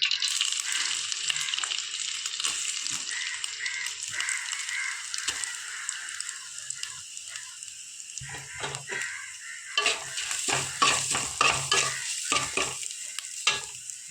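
Coconut fries in hot oil in a pan, a loud crackling sizzle that turns busier halfway as rapid stirring strokes and scrapes come through in quick bursts, close with no talk.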